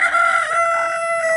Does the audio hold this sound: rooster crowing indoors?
yes